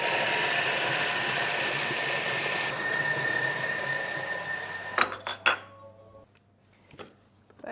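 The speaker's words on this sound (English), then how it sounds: "We're going to mix that for 15 seconds at speed 5." A Thermomix TM6 whirs steadily at speed 5 while blending a seed and nut loaf batter, then stops abruptly, leaving a few clinks and knocks of the lid and utensils against the bowl.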